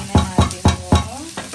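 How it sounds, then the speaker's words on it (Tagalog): Bok choy is stir-fried for mie goreng in a hot pan, with four or five steady, rhythmic scraping stirs over a constant sizzle, close and loud, with no talk. "So, masarap tong bokchoy sa MIE goreng, guys. Tapos, stir fry."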